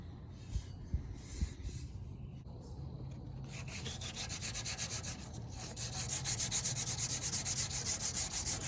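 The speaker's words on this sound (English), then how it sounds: "I'm just lightly sanding this." An old chrome fender with a spray-paint design is lightly sanded by hand, a faint scratchy rub at first that builds into a steady, close, rhythmic back-and-forth scraping.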